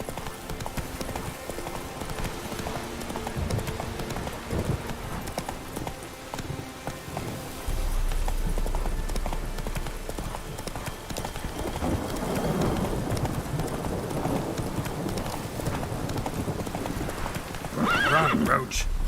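Roach the horse gallops in a video game, with steady clip-clopping hooves and whinnies over rain-and-thunder ambience that grows louder and denser partway through, while someone talks.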